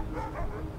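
A dog barks in Assassin's Creed 3 gameplay, a short burst of yapping over a dense, continuous game soundscape.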